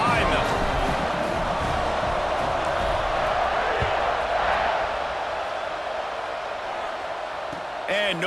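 A stadium crowd in EA Sports College Football 26 roars steadily as a team lines up for kickoff, a dense, continuous wash of cheering that holds for the whole stretch.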